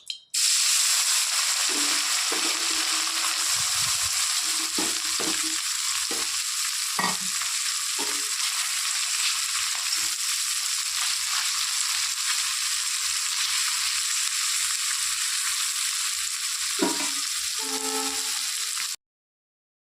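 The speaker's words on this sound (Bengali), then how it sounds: "তেলও গরম হয়ে গেছে, আমি মাছগুলো দিয়ে দেব" Pieces of fish coated in salt and turmeric fry in hot oil with a loud, steady, close sizzle lasting the whole time, with occasional clinks and stirring knocks early and near the end.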